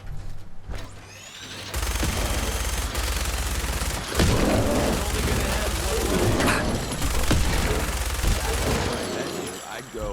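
Gunfire in the video game Fallout 4 in survival mode: loud, sustained bursts of rapid shots and mechanical clatter that roll almost continuously, with brief dips between volleys.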